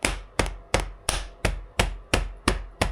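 A Harley Sportster front fork part is tapped into place with eight evenly spaced, sharp hammer blows, each knock ringing briefly before the next, close and loud with no voices.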